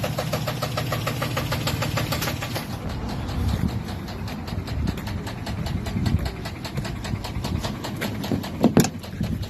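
A 2008 Chevrolet Silverado Z71 V8 sits at idle with a steady low rumble and a rapid, regular metallic ticking from a fault, close up and continuous with no talking, plus a brief louder surge near the end.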